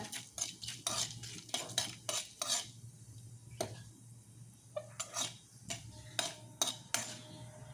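A utensil stirring mint rice ingredients in a pan: quiet, close scrapes and clinks in quick clusters, then sparser taps, over a faint sizzle.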